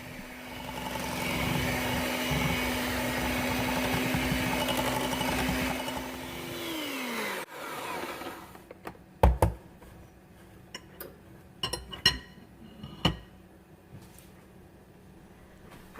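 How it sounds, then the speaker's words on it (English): A hand mixer whirring at medium-low speed through carrot cake batter, a steady loud motor drone lasting about seven seconds before winding down, followed by scattered clinks and knocks of bowl and beaters. "I'm just going to take my hand mixer and combine all of these ingredients well"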